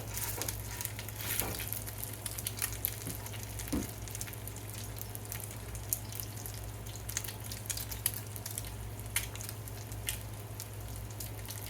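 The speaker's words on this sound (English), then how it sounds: "lay them down into the oil, and you can hear it sizzling" Food frying in oil sizzles with a constant crackling hiss and scattered pops, close and moderately quiet, over a low steady hum, with no talking.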